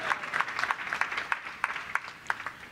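A church congregation at a Bible study in Raipur claps their hands in a steady rhythmic beat, each sharp clap distinct and moderately close, with no talking over it.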